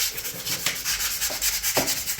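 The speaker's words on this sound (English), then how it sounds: "now we're sanding all of the putty places" Sandpaper scraping over dried putty patches on an apartment wall during a Paris renovation, a steady harsh rasping rub with a few sharper strokes, close and continuous with no talking.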